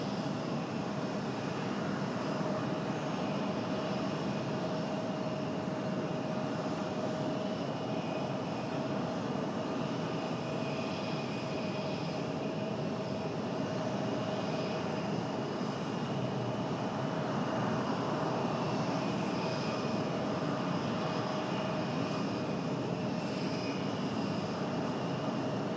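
An airplane powers up for takeoff from runway 5 left at Raleigh-Durham International Airport, its engine roar loud and steady throughout, heard from a distance with a constant whine on top.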